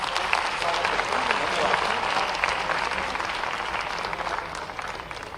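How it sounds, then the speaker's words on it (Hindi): A large audience applauds steadily at an environment conference in Ravindra Bhavan, Bhopal, a dense wash of clapping that holds strong throughout and tapers slightly at the end. "जोरदार तालियों से अभिवादन करें।"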